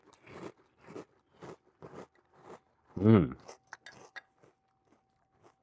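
Someone bites into and chews Apple Pie Toast Crunch cereal up close, in a series of short dry crunches with one loud bite partway through and a brief hum of voice.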